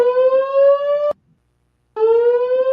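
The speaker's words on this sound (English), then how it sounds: "There's a fire alarm testing going on." A building fire alarm siren sounds during a test: a loud, steady electronic tone that cuts off abruptly, falls silent for nearly a second, then starts again at the same pitch, with no talking.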